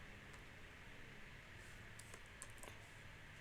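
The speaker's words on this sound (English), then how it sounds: "Press Windows R onto your keyboard" Keys pressed on a computer keyboard during setup of a Windows virtual machine, a few soft light taps over a faint steady hiss with no talking.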